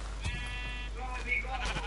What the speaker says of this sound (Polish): Nie, z czerwoną owcą.